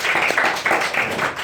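A church congregation claps in welcome, a burst of rapid overlapping hand claps in a steady pulsing rhythm, fairly loud and close.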